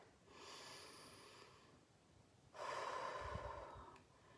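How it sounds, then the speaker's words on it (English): Someone takes two slow, close breaths, a soft airy inhale followed by a louder, rushing breath, with no talking. "stop tapping, take a breath"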